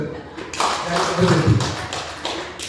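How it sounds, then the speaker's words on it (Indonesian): A small group claps hands together in a classroom session, a dense patter of taps that swells and fades over a few seconds while people talk. "Tepuk tangan untuk kita."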